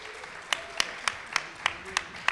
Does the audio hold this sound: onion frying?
no